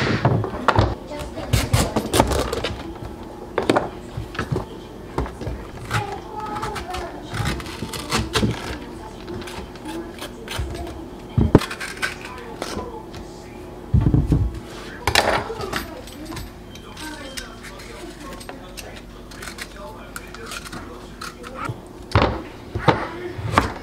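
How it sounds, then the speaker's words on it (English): Butternut squash being cut into big cubes and peeled on a kitchen board, with irregular knife thunks and scraping knocks spread through the clip while a person talks over the work. "The first step is going to be cutting this butternut squash into big cubes and peeling it."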